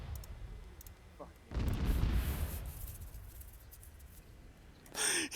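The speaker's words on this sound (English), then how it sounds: "it's just the artillery in the vicinity" Artillery fire explodes nearby during ambush training: after a few light clicks comes one heavy boom with a long rumbling decay, and a short burst follows near the end.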